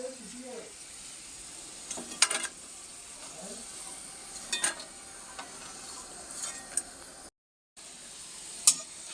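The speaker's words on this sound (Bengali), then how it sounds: "এটা কিন্তু ভালো করে মচমচে করে ভাজতে হবে এটা নরম করে ভাজলে হবে না" Potato peels fry crisp in a pan with poppy seeds, a quiet steady sizzle broken by sharp scraping stirs of a spatula, close up, with a brief silent gap.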